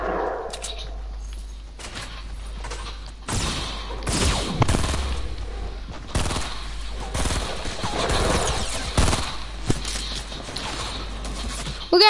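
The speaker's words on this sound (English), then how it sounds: "We're getting shot at from all angles." Bursts of video game gunfire crack and rattle in rapid volleys from several directions, loud and close, with mechanical clanks between the shots and no speech.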